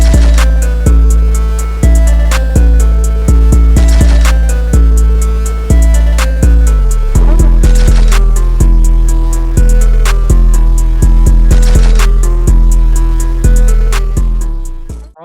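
Trap beat with a melodic loop over heavy booming 808 bass and hard, steady drum hits, loud and continuous throughout before cutting off at the end.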